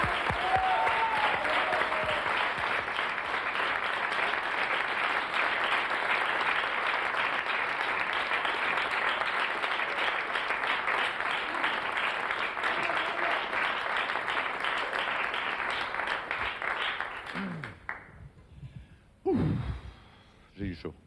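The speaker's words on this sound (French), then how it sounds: "quelques applaudissements, s'il vous plaît" A TV studio audience on a hidden-camera prank show claps in a long, dense, steady burst. The clapping fades out near the end, leaving a few breaths and small vocal sounds.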